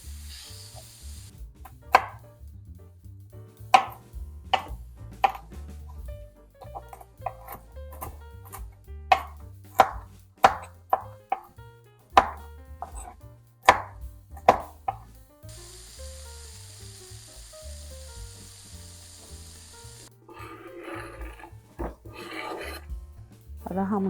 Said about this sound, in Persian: اینجا گردوهامون هم یه کمی خورد میکنیم، قاطیش میکنیم